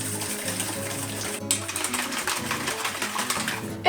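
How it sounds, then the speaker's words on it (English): Eggs are whisked briskly in a bowl for a Japanese home-style dish. The whisk makes a rapid, steady, close-up clatter with a fast rhythm that continues for several seconds. "Okay, now we're gonna whisk."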